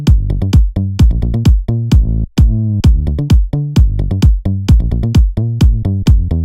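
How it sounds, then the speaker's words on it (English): A synthesized bass patch built in Serum plays a punchy, rhythmic line of short plucked notes with one brief sustained note midway, loud and dry with no voices. "So that's just a bass patch I made in Serum."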